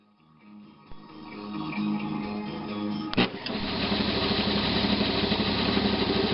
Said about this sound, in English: now we're going to use a belt sander here to cut this down